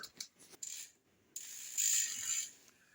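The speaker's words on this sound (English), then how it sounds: "I'm going to check these crank bolts." Short bursts of a ratchet wrench click rapidly as crank bolts are tightened on a Haro Downtown 24 BMX bike, close and crisp, with brief pauses between strokes.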